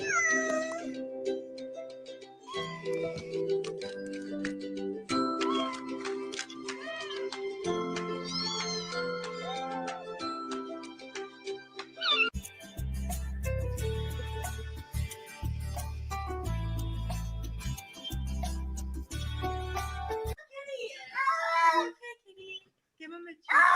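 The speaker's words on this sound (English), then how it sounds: "that's the cat" A cat meows several times amid a busy, music-like mix of tonal sounds, with people talking nearby and low thumping in the middle section.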